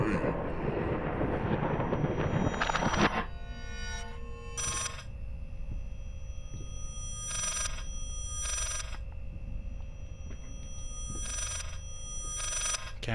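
In the horror video game Layers of Fear, an old telephone bell rings in repeated bursts with pauses between them, over a dull ambient drone after a noisy opening rumble, and someone talks over it.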